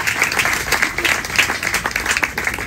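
A French audience at a panel discussion applauds, with brisk, distinct individual claps forming a lively, moderately sized round of clapping that continues throughout without speech.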